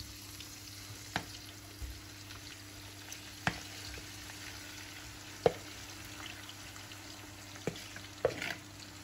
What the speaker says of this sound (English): Be careful with the splashing because the lard is really hot now.